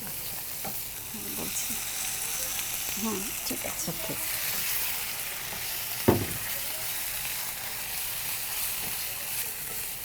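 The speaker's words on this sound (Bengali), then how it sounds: "এটার মধ্যে আবার একটু পানি দিয়ে আর কষাবো।" Shrimp malai curry with coconut sizzles and hisses in a pan while being stirred after a splash of water, a steady close frying noise with scraping, one sharp clack midway, and people talking over it.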